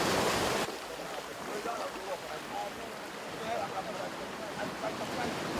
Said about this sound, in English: It's amazing to hear the water and to hear the sounds.